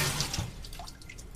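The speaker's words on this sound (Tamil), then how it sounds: "எவனோ வந்து பாத்ரூம் போயிட்டு தண்ணி ஊற்றினா ஒரு சத்தம் கேட்கும் பார்த்தீங்களா?" Bathroom water sounds in a night-shift horror video game: drips and a pouring, flushing trickle, loudest at the start then thinning into scattered faint drips, with no voices.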